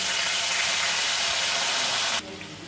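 Mustard paste hits hot oil with black cumin and green chillies for a bata fish curry. It fries in a loud, steady sizzle that suddenly drops away near the end.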